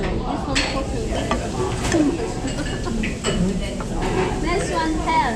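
Food stir-fried in a wok at a Chinatown noodle shop making handmade dumplings and noodles, with steady sizzling and scraping stirs running throughout, heard under people talking nearby in a busy kitchen.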